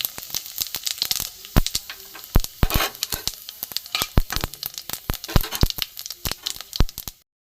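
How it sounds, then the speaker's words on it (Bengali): A bay leaf, a whole dried red chilli and whole cumin seeds crackling and spitting in hot oil in a kadai for moong dal with ridge gourd, loud close bursts of sharp pops over a sizzle until it cuts off. "এখানে আমি ফোড়ন দেবো একটা তেজপাতা একটা গোটা শুকনো লঙ্কা গোটা জিরে"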